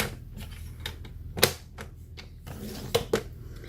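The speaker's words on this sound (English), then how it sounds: "And then we're going to cut at 5 1/2 on the horizontal edge." Stampin' paper trimmer cutting cardstock for Christmas cards: a series of crisp, close clicks and short snaps in an uneven rhythm, with no speech.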